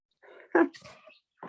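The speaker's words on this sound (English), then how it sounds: "there's Carl barking at the seal" A dog barks at a seal, giving one loud, close bark amid softer whimpering and yelping sounds, with another short vocal burst at the end.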